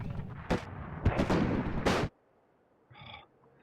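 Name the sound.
Abrams tank firing its cannon, from the video game WARNO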